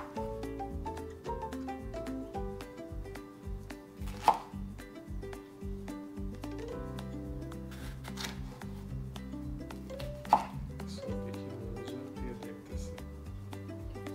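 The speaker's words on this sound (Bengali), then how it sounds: "তাকে মাঝখান দিয়ে কাটবো।" A knife cutting through vegetables on a board while preparing low-carb chicken shashlik, a couple of distinct sharp chops heard above a steady background of faint music-like tones.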